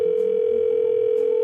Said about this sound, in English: we got a John Cena prank call